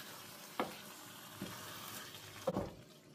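Stew being stirred and mixed in a pot, with three soft scraping, clattering strokes at irregular intervals over a steady low background hiss.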